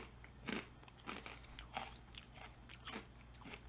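Spicy Italian-seasoned Gardettos rye crackers crunched close to the mic, an initial crisp bite followed by several quieter chewing crunches at irregular intervals.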